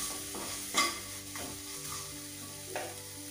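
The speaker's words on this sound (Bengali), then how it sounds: "নাড়িয়ে চাড়িয়ে নেব" Spice masala with turmeric being stirred in a frying pan, a spatula scraping in a few distinct strokes over a steady low sizzle, close and alone with no voices.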